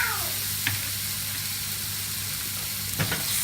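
A crushed mix of ginger, garlic, chili, pepper and shallot fries in oil in a pan, a steady close hissing sizzle with a couple of faint stirring clinks.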